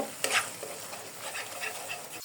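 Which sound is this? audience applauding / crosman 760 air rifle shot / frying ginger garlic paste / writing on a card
frying ginger garlic paste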